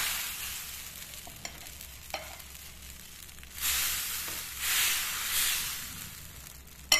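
Onion uthappam batter poured onto a hot griddle, a steady soft sizzle rising into louder bursts of hissing frying, close and without talk.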